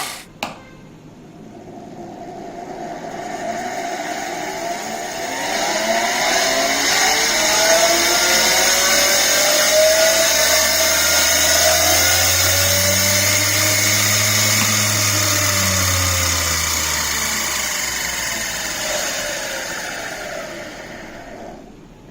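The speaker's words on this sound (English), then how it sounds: "big washing machine motor. Okay, increasing the speed" A large washing machine motor runs steadily, its hum and whine rising in pitch as the speed is pushed up, then easing back down near the end, loud and close with no talking.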